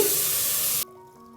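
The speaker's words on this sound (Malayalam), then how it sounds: "ആവശ്യത്തിനുള്ള വെള്ളവും ചേർത്ത് കൊടുത്തതിന് ശേഷം" Water hits a hot pan of coconut egg curry with a loud, broad hissing sizzle that stops abruptly after under a second, leaving a quiet simmer.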